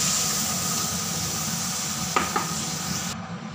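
Tamarind water stirred into a simmering prawn curry: a continuous steady sizzle and hiss from the pan, broken by two soft knocks of a spoon near the end, with no talk.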